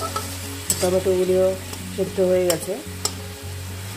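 Tomatoes and spices sizzle steadily in a hot pan while a spoon scrapes and stirs in short strokes, close and clear, with a brief spoken remark over the frying.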